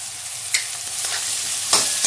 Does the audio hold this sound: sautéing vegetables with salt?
yes